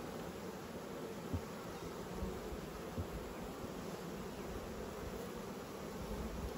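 Honey bees on beehive frames during a hive inspection give a steady, dense buzzing drone that runs throughout, fairly faint and even, with no voices.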